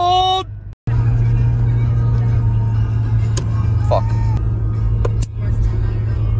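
Video game car engine holds a steady low drone, continuing nearly the whole stretch after a brief cutoff, with a few sharp knocks and impacts scattered through; a short burst of voices sits at the very start.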